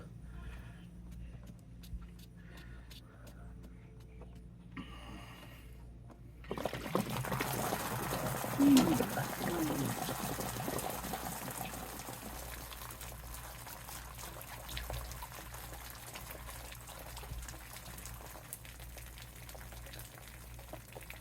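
Water drains steadily out of an RV water heater tank, a broad rushing, trickling wash that starts abruptly after several seconds of near quiet and continues at a moderate, even level, with a brief louder gush early on.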